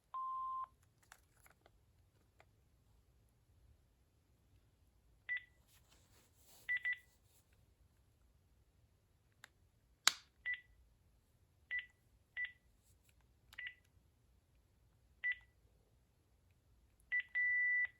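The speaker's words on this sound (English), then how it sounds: "The beep on this handset is pretty loud." Short electronic beeps from a Panasonic KX-TG4021 cordless phone handset, repeated at irregular intervals against a faint background, with a few higher tones near the start.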